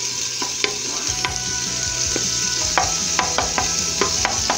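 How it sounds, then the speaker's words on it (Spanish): Aderezo sauce base for a caigua stew sizzling steadily in a pot, with the scrape and knock of a spoon stirring it at irregular intervals; close and continuous, with no talk. "Entonces vamos a seguir friendo acá."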